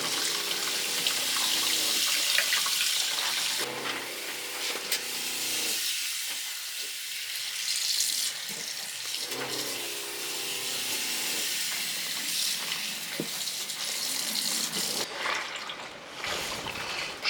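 Laundry is washed by hand in a basin of water aboard a sailing boat at Sifnos: steady splashing, sloshing and trickling of water with hissy running-water texture, close and continuous, with short pauses.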